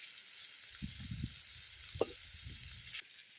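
Stingray sautéing with ginger in a pan while cooking outdoors in the wild, a soft steady sizzle with light stirring scrapes and a sharp clink midway, no talk.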